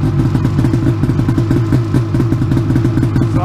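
A 2005 Ski-Doo Summit 800 H.O. snowmobile engine idling steadily nearby, a loud, even, low chugging rumble with no revving.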